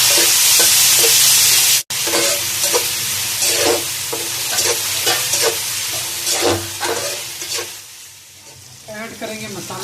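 Onions and tomatoes frying in a pan for a white chickpea (safaid channay) curry, a loud steady sizzle with regular stirring scrapes, briefly cut at about two seconds, then continuing and easing toward the end.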